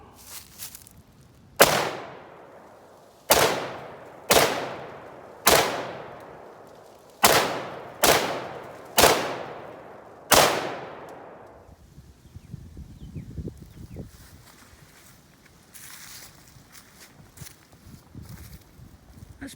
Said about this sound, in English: So we're going to shoot each target once, and then come back and shoot each target twice